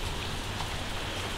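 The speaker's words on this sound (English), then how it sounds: "it's raining outside" Rain falls outside in a backyard under tree cover, a dense, steady hiss of drops hitting surfaces, fairly loud and continuous with no talking.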